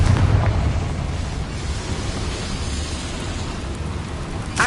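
A Confringo spell explosion in Hogwarts Legacy sounds as a deep, rumbling fiery roar that fills the whole stretch and slowly settles, loud and continuous, with a faint crackle at the end.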